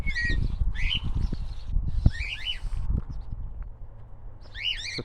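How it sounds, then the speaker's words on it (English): Cockatiels in a wire-netted aviary give repeated short, bright chirps and warbling calls in several bursts, with rustling and low background noise between them. "just beautiful, beautiful bird."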